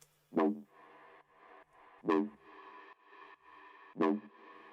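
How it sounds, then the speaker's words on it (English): Three plucked synth notes in Serum spaced about two seconds apart, each ringing out into a medium-length reverb tail that fills the space between them. "the third I've got is a medium reverb"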